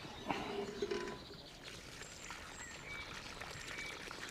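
Water poured generously over a potted citrus plant in a garden to flood the soil, giving a soft, steady splashing hiss with faint birdsong in the background.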